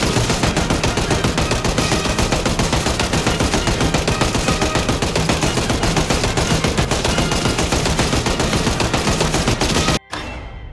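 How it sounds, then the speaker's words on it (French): Sustained machine gun fire in the video game Project Zomboid, played in debug mode: a loud, dense, unbroken burst of rapid shots running about ten seconds before stopping abruptly, with no talk over it. "avec le debug mode, vous pouvez vous prendre une petite mitraillette, un stuff entier rempli de chargeurs"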